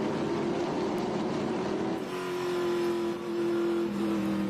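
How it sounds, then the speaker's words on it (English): A TA2 Trans Am race car engine holds a steady, droning onboard note under throttle, loud and close, with a slight dip in pitch midway. "just listen to the throttle anytime that we have an opportunity here today and see how these guys have to work the throttle"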